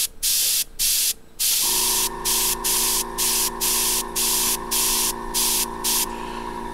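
An airbrush spraying paint onto a football player's face mask in short, even bursts, about a dozen hissing puffs over a faint steady background hum, with no talking.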